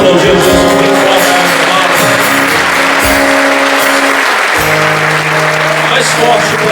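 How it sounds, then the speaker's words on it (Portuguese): A church congregation claps loudly and steadily for several seconds, dense continuous applause mixed with a voice and music underneath. "Vamos aplaudir Jesus bem forte."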